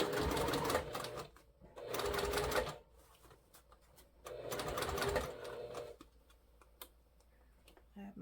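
A sewing machine stitches a bag on its cylinder arm at a wide stitch length, running in two steady close bursts of about a second each, with quiet handling and clicks in between.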